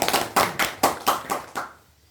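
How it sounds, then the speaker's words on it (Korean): Five or six sharp claps ring out in a quick, even rhythm from an audience at a spiritual teaching talk, fairly close, then stop and leave near silence. "큰 박수 부탁드립니다."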